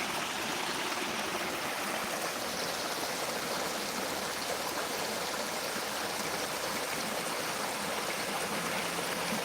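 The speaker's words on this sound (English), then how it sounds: "I'm trying to get the water coming out of the rock right there" Water rushing quickly out from under a giant rock at a waterfall, a steady broadband roar and splash, close and constant with no voices.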